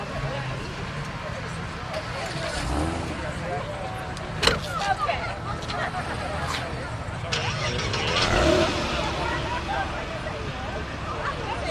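Classic Porsche cars idle and rev as they get ready to leave a Porsche club car event, with a steady engine rumble throughout, a sharper burst midway, and people talking nearby.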